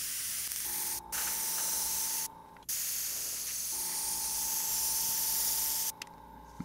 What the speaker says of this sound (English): Okay, I got more black on my airbrush.